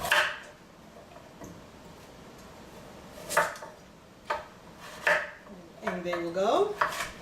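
A knife chops vegetables into quarters on a cutting board for chicken stock, giving several sharp, separate thuds spaced a second or so apart, with a clattering, ringing knock near the end and a few brief spoken words.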